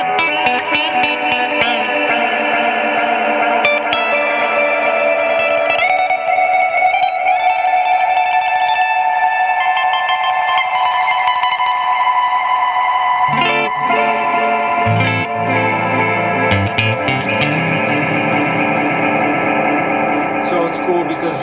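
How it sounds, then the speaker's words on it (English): A Korg SE-300 stage echo sends only reverberated repeats with no dry signal, giving a lush, continuous wash of sustained tones with soft attacks and a lower-register shift midway, loud and alone. "you don't hear a dry signal for the repeats, on all the repeats. You just hear the reverbed sound."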